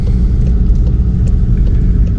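Steady low engine rumble of a manual car driving slowly just after moving off in first gear with the clutch released, loud, continuous and even, with no talking.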